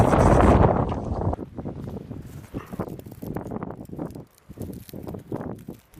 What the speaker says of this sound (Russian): очень холодный ветер, пронизывающий до костей